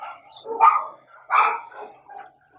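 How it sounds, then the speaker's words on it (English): Two yappy dog barks ring out about a second apart at moderate distance in Bali, and a thin steady high tone sounds in the background. "there are a lot of dogs and chickens fighting in the background"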